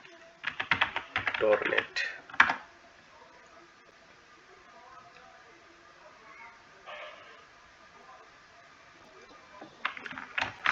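Rapid clicky keystrokes on a computer keyboard come in quick bursts at the start and again near the end, separated by quieter stretches where a voice speaks briefly.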